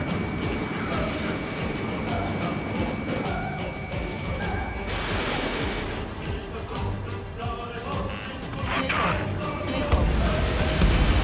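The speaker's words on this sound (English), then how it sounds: "It's a hit. The unidentified aircraft is going down." A missile strikes an unidentified aircraft in the Ace Combat 7 combat flight game, a dense crashing blast layered over constant jet roar and game noise, loud and sustained with a brief swell near the end.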